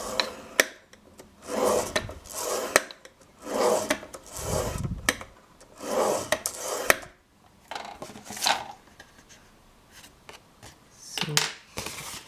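Paper being scored along a fold line for a handmade mini album, a series of repeated raspy scraping strokes in short bursts, close and fairly clear, with brief pauses between passes.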